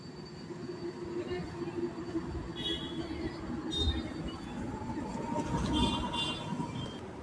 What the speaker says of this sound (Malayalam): ഒരു മെട്രോ വരുന്നുണ്ട്.